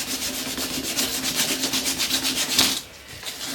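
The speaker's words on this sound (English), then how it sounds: "it's been quite a while doing this hand sanding." Steady back-and-forth hand sanding of a bushcraft knife handle, a rhythmic rasping scrub repeating close by for a few seconds before stopping abruptly.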